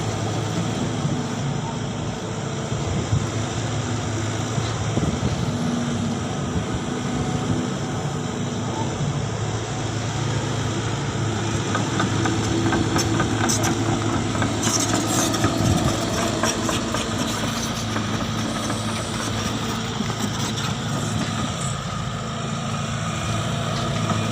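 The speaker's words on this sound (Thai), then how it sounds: "สำหรับรถขุดที่ น้ำหนัก อยู่ที่ 13 ตันครึ่งนะครับ" A SANY SY135C excavator of about 13.5 tonnes runs with a steady, heavy diesel drone while shaping topsoil in a pit, loud and continuous throughout, with someone talking over it.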